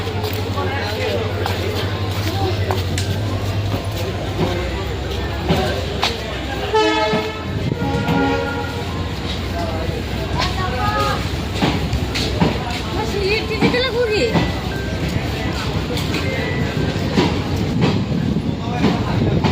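A passing train rumbles and clatters loudly alongside, its horn sounding briefly partway through, while people talk over the rolling noise.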